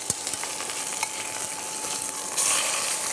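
Veal browning in a Country Cookware enamelled cast-iron pan, a steady close sizzle with faint crackles and a brief louder hiss near the end.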